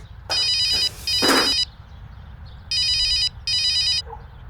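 A phone rings in four electronic trilling bursts, two close together, a pause, then two more, moderately loud with no talking.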